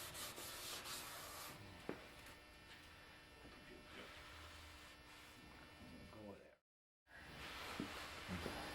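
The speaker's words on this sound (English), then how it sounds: "Scotch-Brite is going to remove any type of residue that's left behind." Wood being scrubbed by hand with a Scotch-Brite pad to clear paint stripper residue, a close, continuous rough rubbing and scraping broken by a brief gap, with a voice talking over it.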